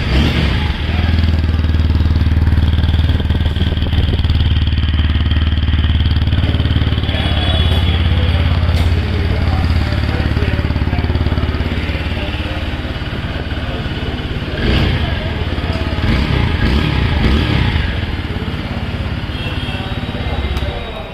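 A TVS Apache RTR 160 4V 2022 special edition motorcycle engine runs loudly and steadily throughout, idling with a low rumble and occasional revs, close by.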